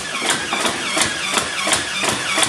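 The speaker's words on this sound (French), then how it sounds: "on appuie doucement, ça lance les moteurs. Là vous les entendez." Small electric flywheel motors of a Nerf Elite Rhino Fire blaster spinning with a steady whir, pulsing in a regular rhythm of bursts about every third of a second, close and moderately loud, with no talk.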